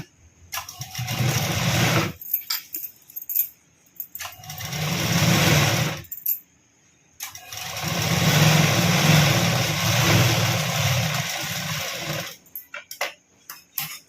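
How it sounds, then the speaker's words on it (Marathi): A domestic sewing machine stitches a 36-inch katori blouse in three separate runs: a short burst, a longer one, then a sustained whirring stretch, with brief quiet handling pauses between them. "आधी 2 टिपा मारून घ्यायच्या. ह्या साईडनी पुन्हा टिपा मारून घ्यायच्या."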